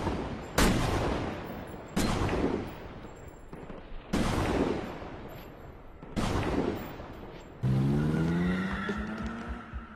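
A sniper fires on a crowd from the top of a building in the 2012 film Jack Reacher: five loud, echoing rifle shots spaced about two seconds apart, each ringing out before the next, followed by a swelling rush of street noise.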